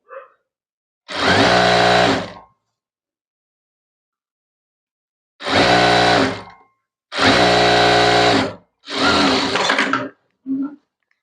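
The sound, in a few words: sewing machine stitching saree lining cloth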